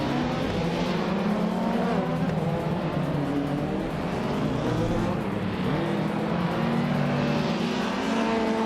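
A 1995 Vauxhall Cavalier races among other cars, a steady engine drone with shifting tones and faint tire noise, continuous and fairly close throughout.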